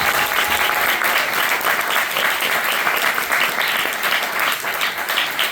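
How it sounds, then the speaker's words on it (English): Audience at a Q&A with a comedy series creator and star breaks into loud, sustained applause, dense clapping filling the whole stretch without a break. "I just want to give you a big round of applause on that."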